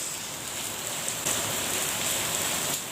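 Heavy rain pours down steadily as a dense, even hiss, swelling slightly louder partway through and staying constant, with no voices.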